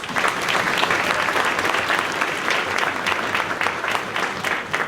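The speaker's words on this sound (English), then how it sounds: "let's give him a round of applause" Audience applause at a school spring band concert, a dense, sustained roar of many hands clapping at steady loudness throughout, with faint crowd murmur mixed in.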